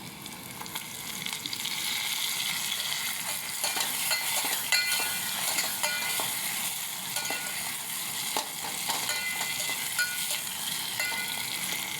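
Cauliflower frying in oil keeps up a loud, close sizzle as tomatoes are added, with scattered clinks and scrapes of a spoon against the pan over a steady crackling hiss.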